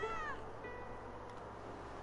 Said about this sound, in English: It's a loud cat.